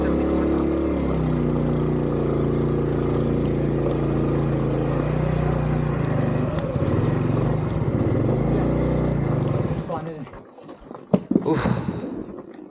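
A Honda CD70 motorcycle labours up Gorakh Hill with a steady, close, droning engine note for about ten seconds, then the engine fades and only scattered rustling and brief bumps remain.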